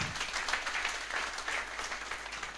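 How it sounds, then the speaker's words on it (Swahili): Applause from a church audience at a pastors' fellowship gathering, a steady wash of many hands clapping at moderate distance, fairly soft and continuous, with a brief murmur of voices underneath. "Apigiwe makofi mazuri."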